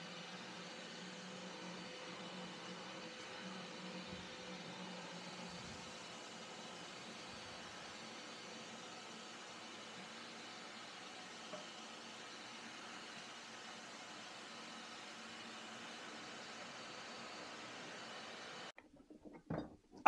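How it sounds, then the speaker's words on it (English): A cyclone dust collector in a woodworking shop runs with a steady, even roar of rushing air and motor noise as it sucks up cheese balls and sawdust, then cuts off abruptly near the end. "I put my Cyclone through the rigorous cheese ball and sawdust test to see how the system reacted"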